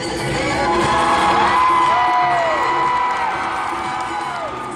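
An arena crowd screams and cheers for a ballroom dance performance at a national competition, a loud, sustained roar with high piercing whoops and shrieks rising and falling over nearly five seconds.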